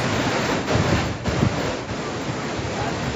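Floodwater of the Wan river rushing after heavy rain in the Ambejogai area of Beed, a steady loud broadband roar with wind-like buffeting, continuous throughout with no speech.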